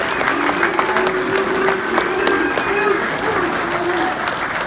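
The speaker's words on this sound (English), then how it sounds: "They're not booing, they're saying Bruce." Fans at the Indy KISS Expo 2018 clap loudly and call out Bruce for guitarist Bruce Kulick, a sustained wash of applause with a low, droning chant running through it.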